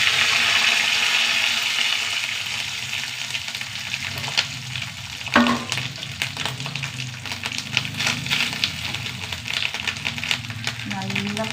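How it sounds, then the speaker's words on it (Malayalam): Grated coconut with curry leaves fries in a pan, a continuous close sizzle with scraping stirs and light crackles, while a voice speaks intermittently. "നല്ല കളറ് വരുന്ന വരെ വറുത്തെടുക്കണം."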